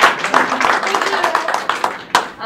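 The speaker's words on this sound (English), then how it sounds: "Round of applause for them." An audience at a startup event gives a short round of applause, a dense patter of clapping lasting a couple of seconds with a final sharp clap near the end.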